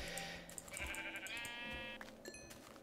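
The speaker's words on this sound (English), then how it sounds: "we've got enough sheep for a bed" A Minecraft sheep bleats in the game, a clear wavering digital baa repeated a couple of times at moderate volume over a quiet background, with no talking.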